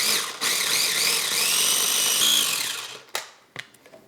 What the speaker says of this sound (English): And we're going to continue to grind it up.